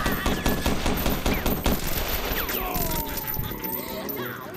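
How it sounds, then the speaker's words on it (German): Machine gun fire in the pixel-art action game Huntdown, a loud rapid rattling burst of shots for nearly two seconds, followed by whooshing and descending synthetic effects. "Maschinengewehr."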